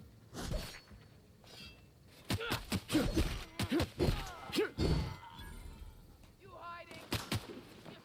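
Gunfire in The Outer Worlds comes as several sharp, loud shots scattered through the clip, mixed with nearby impacts and game effects, while a voice talks over part of it.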